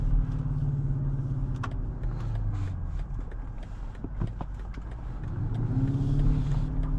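A 2024 BMW X7 M60i V8 engine heard from inside the cabin while driving, a steady low rumble that swells as it revs, dips in the middle, then climbs again toward the end, with no talking.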